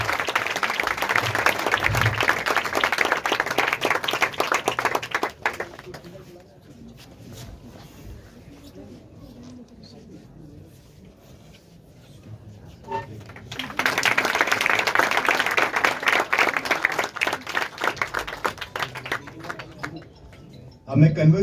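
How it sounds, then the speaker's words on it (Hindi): An audience at a seminar ceremony bursts into lively applause as a guest is presented with a Bhagavad Gita, with two loud clapping stretches separated by a quieter lull where a voice speaks over light noise. "तालियों में कंजूसी मत करिए।"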